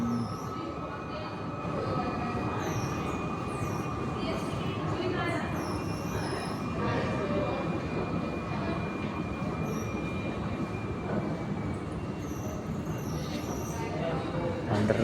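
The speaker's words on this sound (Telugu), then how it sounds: "ఇది మనం ఇప్పుడు ఎక్కబోయే మెట్రో వస్తుంది." An underground metro train pulls into a station platform, its steady rumble and rolling wheels filling the space, with high squeals from the wheels and brakes as it slows, and distant voices around.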